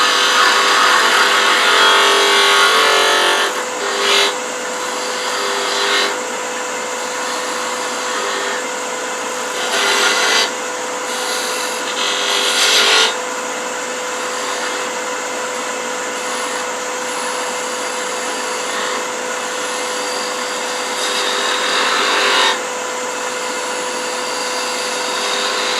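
A wood lathe spins a small, securely fastened wooden mouse blank at around 2600 rpm, giving a steady loud whir with brief swells and dips as the tool meets the wood.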